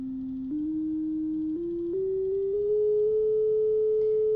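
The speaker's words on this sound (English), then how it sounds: "Let's turn it up to 200 Hertz. So it's making a bit of a whining sound." A steady pure test tone steps upward in pitch several times from 200 hertz to 400 hertz, getting slightly louder as it climbs, with nothing else in the background.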